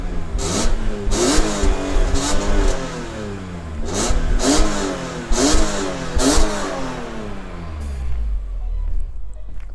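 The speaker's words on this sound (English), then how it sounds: "S54 engine, it is literally my favorite M car engine. It sounds brilliant." A BMW M car's S54 straight-six is blipped repeatedly, several sharp revs climbing and falling in quick succession, loud and close, before settling back to idle.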